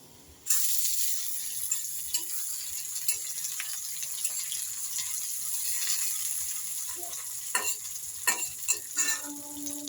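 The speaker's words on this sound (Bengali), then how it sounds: "পেঁয়াজগুলো একটু লাল লাল করে ভেজে নেব।" Onions frying in a pan, a steady sizzle that starts abruptly and continues with occasional clinks and scrapes of stirring, close and moderately loud.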